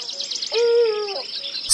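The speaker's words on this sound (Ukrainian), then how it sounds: "а потім двічі крикнув сполоханим пугачем" An owl-like hoot rings out: one clear, sustained tonal call, near and fairly loud, over faint background hiss, followed by a brief sharp click.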